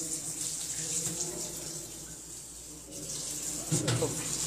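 Water runs steadily from a tap inside a cramped detention room in Jeddah, Saudi Arabia, a continuous hissing flow heard close, with a brief splashing surge near the end.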